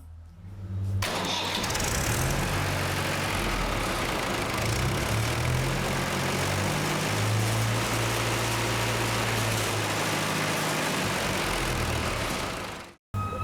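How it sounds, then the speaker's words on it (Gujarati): A mechanically governed engine, model MMV P-75, catches after a brief start and revs at full throttle, a loud, sustained roar holding steady before cutting off abruptly. "એક્સિલેટર આપી અને એન્જિનની હાઈ સ્પીડ ઓપરેશન ચેક કરીશું"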